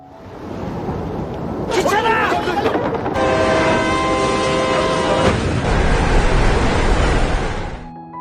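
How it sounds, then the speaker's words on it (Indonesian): A train rushes past close by with a loud continuous rumble, and a long blaring horn sounds midway through the pass. "tiba-tiba ada kereta yang melintas"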